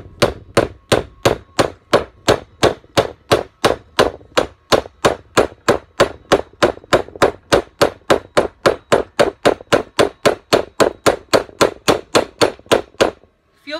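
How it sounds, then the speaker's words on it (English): A hammer taps a lead fishing weight onto a metal texture plate in a long, steady series of about forty sharp, ringing clangs at an even, quick rhythm, close and loud, with no talking. "hammer it, and then as I hammer it, I'm going to move it around."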